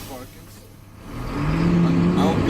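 A truck engine runs steadily in the cab during a CDL in-cab inspection, rising to a louder, even drone as it builds air brake pressure from low toward 120.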